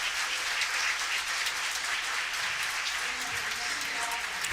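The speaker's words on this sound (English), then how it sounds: "just a round of applause for them" Attendees at an international railway reactivation forum applaud, a dense even wash of clapping held throughout, with faint voices beneath it.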